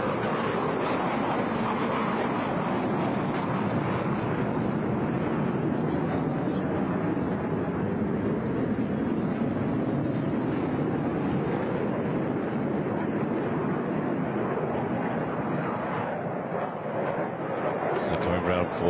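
HAL Tejas fighter jet banking through a high-rate turn, a steady, loud, broadband engine roar with airy rushing noise that holds nearly constant throughout, with no distinct breaks.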